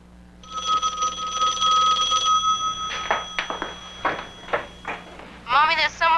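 A telephone rings with steady electronic tones, loud and close, then stops as indoor household sounds and movement follow; a voice begins speaking near the end.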